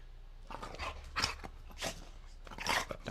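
A dog makes a few short close vocal sounds, soft grunts and whimpering noises spaced about half a second apart, fairly quiet in an indoor room.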